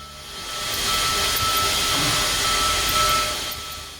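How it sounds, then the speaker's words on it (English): Steady broadband steam hiss from the opened throttle of a Union Pacific Big Boy steam locomotive in Train Simulator, swelling in and holding loud and continuous throughout without a break. "When you open the throttle, it's almost as if you can feel the steam flowing from the throttle to the cylinders."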